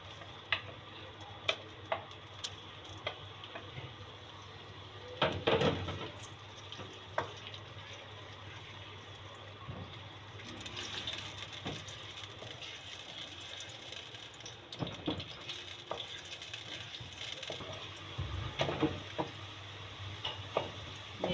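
Onions sizzling and crackling as they fry in hot oil for a mixed vegetable curry of potato, peas and carrot, a steady low hiss with scattered pops and occasional louder bursts of stirring, close and without talk.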